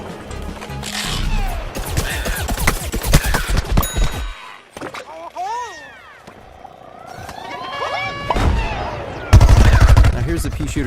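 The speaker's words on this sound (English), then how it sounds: "Here's the pea shooter using the Gatling attack again." In Plants vs Zombies Garden Warfare, a pea shooter fires its Gatling attack in rapid, loud, rattling bursts, broken by a short quiet gap and other game effects before another dense volley.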